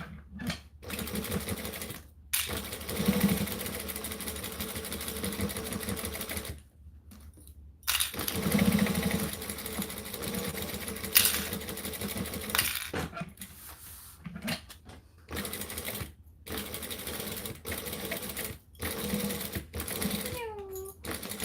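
A sewing machine runs in bursts of rapid stitching, stopping briefly between runs as the fabric is pivoted, with a dog whimpering and barking nearby and a voice talking at times.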